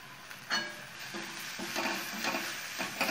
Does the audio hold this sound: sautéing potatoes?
yes